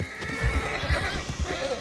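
A horse in Red Dead Online whinnies while its hooves pound out a quick galloping clip-clop, the neigh and rhythmic thuds close and clear, with no talking.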